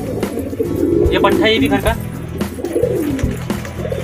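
Pigeons coo while bathing at home in the rain, a soft repeated cooing close by beneath someone talking.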